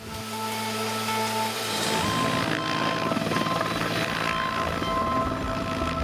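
A military helicopter roars steadily and loudly, its rotor throbbing under a dense rumble of engine and air noise that stays constant throughout.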